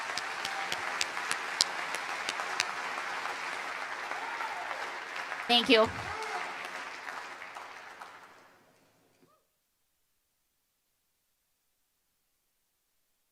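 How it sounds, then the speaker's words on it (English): Audience applause at a school awards convocation, steady crowd clapping that swells briefly, then fades out to silence after about nine seconds, with a short spoken thanks in the middle. "Let's give them one more round of applause."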